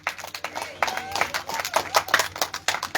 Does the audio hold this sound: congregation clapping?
yes